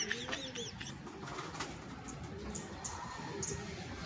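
Soft, low cooing of a pigeon repeating over steady background noise, with a few faint chirps higher up.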